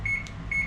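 Two short electronic beeps from a kitchen oven set for baking a black forest cake, each a steady tone with a soft click after it, close and fairly quiet over a low room hum.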